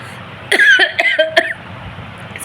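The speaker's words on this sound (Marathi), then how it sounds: "खोकला येतो" A few short, harsh coughs in quick succession, close and fairly loud, followed by quieter background noise.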